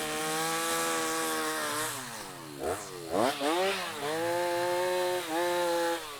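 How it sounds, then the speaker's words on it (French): Chainsaws felling and pruning trees beside an airport road: a loud, continuous engine whine that dips and surges in pitch as the throttle is worked, heard alone. "On a mobilisé une équipe d'abattage et d'élagage qui était équipée de tronçonneuses."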